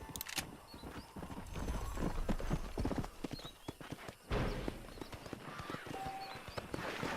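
Horse hooves clip-clop steadily in the Western video game Red Dead Redemption, a close, rhythmic trot with an occasional neigh, moderately quiet throughout.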